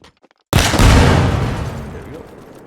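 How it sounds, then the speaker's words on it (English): An RPG strikes a destructible wall in Arma Reforger. After near silence, a sudden loud explosion hits, and a crackling, rumbling debris tail slowly fades. "let's start this and shoot at it with an RPG"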